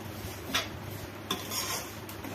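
A spatula stirs semiya vermicelli frying in a pan, making a few soft, separate scraping strokes over a quiet, low hiss.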